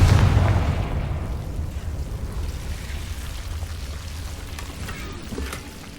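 A Confringo blasting spell goes off in Hogwarts Legacy: a loud booming explosion that hits at the start, then decays into a long rumbling, crackling tail over several seconds, with no talk.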